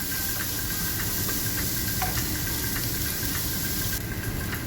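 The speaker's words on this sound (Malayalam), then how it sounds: "നമ്മൾക്ക് 1 കപ്പ് സവാള കൊത്തി അരിഞ്ഞത്, ചെറുതായിട്ട് അരിഞ്ഞത് ചേർത്ത് കൊടുക്കുന്നു. നന്നായിട്ട് ഗോൾഡൻ ബ്രൗൺ നിറമാകുന്നവരെ വഴറ്റുക." Finely chopped onions sautéing in a pan until golden brown, a steady hissing sizzle with a faint tonal hum and light irregular ticks of stirring, close and constant throughout with no voices.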